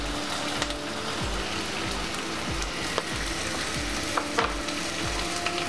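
Spices and turmeric crackle and sizzle steadily in hot oil in a frying pan, with small scraping stirs at a steady pace, heard up close.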